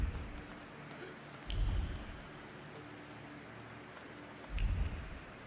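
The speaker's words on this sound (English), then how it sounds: "Why are we all just hanging out in the rain?" Rain falls steadily in The Thaumaturge, a soft continuous hiss with two louder low rumbling swells that resemble distant thunder.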